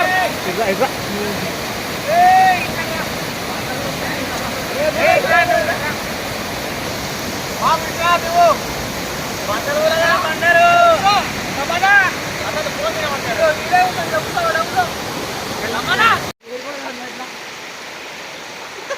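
Water pours at Baabijhari waterfall in Kerameri, a loud, steady rushing roar up close, with people talking over it before the sound cuts to a quieter rush near the end.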